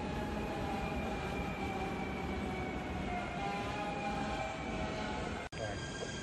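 A train departing from a station in the Netherlands, with a steady rumbling roar, tonal hum and whine building continuously and nearby, and a brief dropout near the end.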